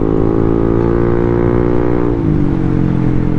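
Engine of a Yamaha Aerox motor scooter with a faulty bearing, droning steadily at moderate throttle, with a slight drop in pitch partway through. The sound is continuous and close, with no speech over it.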